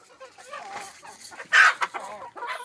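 A black rooster at a home yard gives short clucks and one louder squawking call near the middle, close by, while someone talks throughout.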